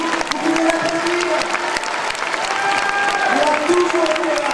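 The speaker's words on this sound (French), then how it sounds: "Vous pouvez l'applaudir." A large audience at a political gathering applauds warmly, sustained clapping that carries on steadily while voices cheer and call out over it.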